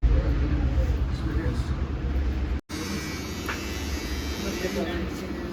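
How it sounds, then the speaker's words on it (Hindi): Electric clippers buzz steadily during a men's haircut and beard shave at a barber, a continuous close hum with one brief cutoff midway, and faint voices underneath. "तो चलते हैं हेयर कट और बियर्ड शेव करवा लेते हैं"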